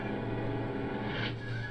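Cavalry horses in an Empire Total War battle whinny as they fall, a brief strained neigh over a continuous rumble of game battle noise.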